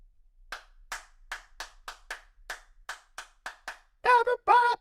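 Someone claps by hand to switch lights on and off indoors, giving about eleven crisp single claps in a steady, fairly quick rhythm, followed by two louder, longer voiced bursts.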